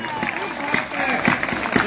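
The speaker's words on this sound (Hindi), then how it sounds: "आप लोग कविता पर भी तालियां बजाते हैं" Audience applause at a Hindi kavi sammelan poetry recital: a steady wash of crowd clapping, sustained and fairly loud throughout, with a voice speaking over it.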